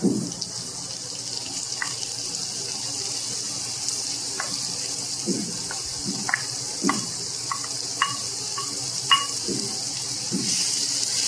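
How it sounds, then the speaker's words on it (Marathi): Chopped onion goes into a hot pan of oil for spicy Maharashtrian pithla, giving a steady frying hiss with a handful of short clinks and stirring knocks spread through the clip, with no talk. "आता आपण ह्याच्यात कांदा घालून घेऊया."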